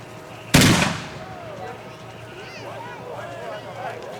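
A single loud gun blast rings out during a shooting competition at a military show in England, followed by a decaying echo, with faint voices and background activity afterward.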